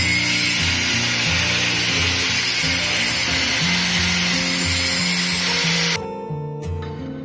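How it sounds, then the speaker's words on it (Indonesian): An angle grinder working over a cut steel plate to clear oxidation before SMAW welding: a loud, sustained whine with shifting pitch as the disc bears on the metal, then it cuts off and spins down to quiet. "Jangan lupa untuk dibersihkan, ya, digerinda sampai sisa-sisa hasil dari oksidasi pemotongannya hilang."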